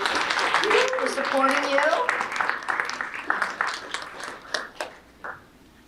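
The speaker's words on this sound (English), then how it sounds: "let's give your families a round of applause" At a March Student of the Month ceremony, the audience claps for the students' families; scattered claps build under a speaker's voice and thin into a few separate hand claps at the end.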